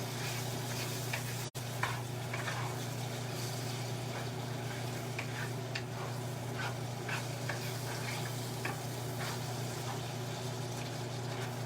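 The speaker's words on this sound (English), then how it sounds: "let's get this ground beef cooked" Ground beef browning in a skillet for a tater tot casserole gives a steady, moderate sizzle with faint scraping from stirring, broken by one sharp click early on and backed by a constant low hum.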